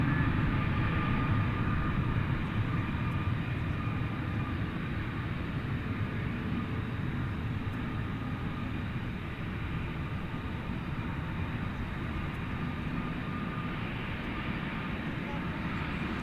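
An Airbus A320neo jet airliner rumbles steadily at a night airport, a broad continuous engine roar that stays fairly constant and moderately distant throughout, with no one speaking.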